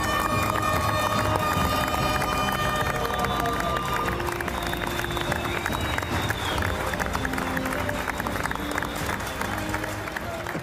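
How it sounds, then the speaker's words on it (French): Studio audience at a farewell for a Fort Boyard host applauding and cheering in a sustained, dense wave of clapping that fills the whole stretch, with crowd noise and some music underneath. "Applaudissez-vous!"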